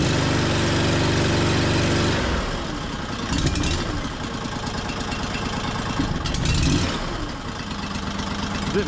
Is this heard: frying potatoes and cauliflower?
no